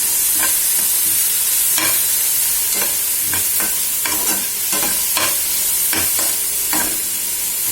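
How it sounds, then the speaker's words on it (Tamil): Vegetables with onion, tomato, garlic and green chilli fry in a pan for mulai keerai kootu. A constant close sizzle runs under irregular spatula scrapes and stirring clacks, with no voices. "எல்லாத்தையும் நல்லா வதக்கிட்டு பருப்பு வேக வச்சு வச்சுருக்கேன், அதை போட்டுடணும்."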